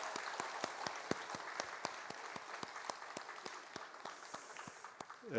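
A church congregation applauds steadily at a Korean Sunday worship service, a dense wash of hand claps with sharper individual claps standing out in a fairly regular beat, sustained for several seconds with no talk.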